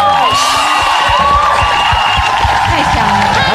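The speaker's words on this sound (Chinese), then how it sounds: "掌声鼓励！" A loud studio audience on a Taiwanese variety show cheers and claps after a young dance group's performance, a dense continuous wash of crowd noise with whoops and voices mixed in.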